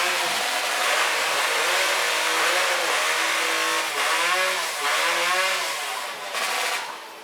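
A STIHL chainsaw motor idles steadily at a loud, close level at a timbersports championship, its pitch wavering up and down slightly, without any talking.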